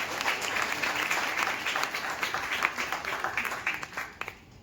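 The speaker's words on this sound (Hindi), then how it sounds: "तो मैं चाहूंगी उनके लिए जोरदार ताली होनी चाहिए।" Audience applause at an award ceremony honoring team winners and leaders: dense, sustained clapping from a crowd, loud throughout and tapering off at the end.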